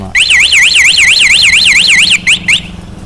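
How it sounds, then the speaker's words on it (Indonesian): A Honda CB150R motorcycle's remote alarm sounds a loud, warbling electronic tone that sweeps rapidly up and down for about two seconds, then cuts off with a few short chirps. "Itu yang bunyi bip bip bip bip bip bip bip bip bip bip."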